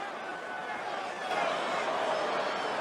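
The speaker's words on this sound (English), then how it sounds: "Like, listen to that crowd." A stadium crowd of nearly 70,000 erupts at a reveal, a dense, continuous roar of cheering and screaming that swells slightly louder partway through and holds steady, with no single voice standing out.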